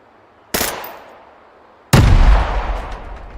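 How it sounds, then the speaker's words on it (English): Two heavy video-game grenade launcher pistol shots: a sharp first crack, then a louder booming blast with a rumbling tail, close and without talk. "Still have that little grenade launcher pistol."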